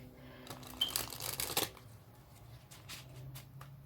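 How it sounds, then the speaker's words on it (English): Quick riffle-shuffling of a steampunk tarot deck, a dense burst of flicking card noise over about a second, then softer handling and light taps, close and quiet, no talking. "going in with my steampunk deck, I'm going to go ahead and shuffle really quick"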